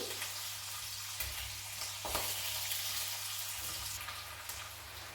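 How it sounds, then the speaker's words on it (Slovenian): Potatoes pan-frying in a pan for a Bohinj-style home dish, a steady broadband sizzle with occasional louder crackles and spits, close and continuous with no talking. "krompir bomo popekli na ponvi"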